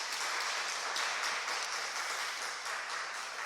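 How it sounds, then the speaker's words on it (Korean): A church congregation applauds during a membership and baptism service, a steady, dense wash of many hands clapping at moderate distance, fairly soft, with no voices over it. "박수 한번 하시죠"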